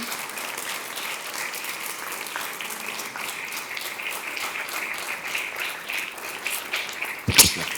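An audience at an awards ceremony for San Isidro prizewinners breaks into steady, sustained applause, many hands clapping evenly, ending with a sharp close knock.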